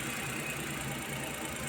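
A Suzuki minivan D63 engine idles quietly with a steady low hum and faint ticking, suspected of a cylinder 2 misfire and valve clearance problem.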